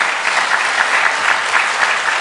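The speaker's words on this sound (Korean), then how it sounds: "박수 한번 주세요." A seated crowd at a Pohang inauguration ceremony gives sustained applause, many hands clapping at once in a steady, loud wash of sound with no speech over it.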